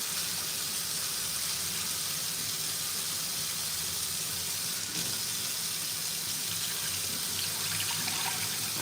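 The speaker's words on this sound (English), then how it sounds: "I'm just gonna keep rinsing. And I like to just rinse with cool water." Cool tap water runs steadily into a sink while chicken is rinsed for adobo, a continuous close, fairly loud splashing hiss with no talking.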